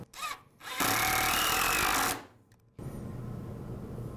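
A power drill drives screws through a cleat into a wooden workbench case, a short whir and then a sustained, loud high-pitched run of about a second and a half, close by, with no voices.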